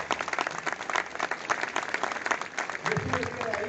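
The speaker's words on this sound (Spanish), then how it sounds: "Es un aplauso para los compañeros de aquí de la zona." A crowd at a Peruvian political rally breaks into loud, dense clapping that swells and holds, with a speaker's voice briefly rising over it near the end.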